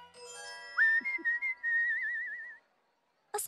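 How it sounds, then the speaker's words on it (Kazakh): A person whistles while working, a single bright sustained tune that rises then wavers with a trill before falling silent, close and clear against a quiet background, with a short noisy burst at the end. "Иә, ысқырып жүріп жұмыс істеймін."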